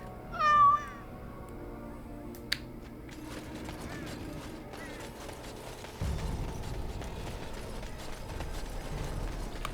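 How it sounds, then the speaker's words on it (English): Sir Pouncelot, a cat in the video game Dragon Age: Origins, gives one short, clear meow at the start, followed by faint game ambience with mechanical clicks and creaks. "And he's also a cat."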